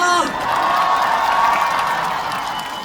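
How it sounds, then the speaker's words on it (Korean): Outdoor concert crowd in the rain at a shopping outlet gives loud applause mixed with cheers and shouts, a voice briefly heard at the start before the steady roar of clapping. "큰 박수 한 번 주시겠어요?"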